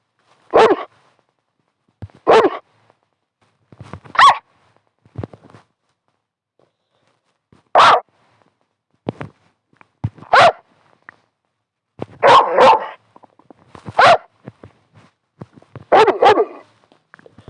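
A dog barks repeatedly in sharp, separate barks spaced a second or two apart, with a few quicker clustered barks, loud against a quiet background.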